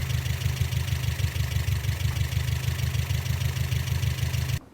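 A Dacia 120 car engine idling during a vacuum test, a steady low pulsing rumble with an even rhythm, loud and close, that cuts off abruptly near the end.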